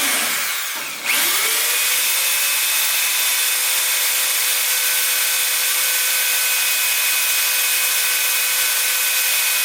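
Power drill running a step bit through truck bed metal: after a brief start-up it settles into one loud, steady high whine that holds unbroken to the end, with no talking.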